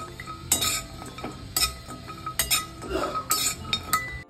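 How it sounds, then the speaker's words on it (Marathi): Grated coconut dry-roasting in a pan with no oil for a garlic-coconut chutney, heard as repeated scraping and clinking of a spoon against the pan in several distinct strokes, fairly close, with no talking. "खोबरं पण आपल्याला काय त्याच्यात तेल वगैरे नाही घालायचं, असंच थोडंसं परतून घ्यायचं"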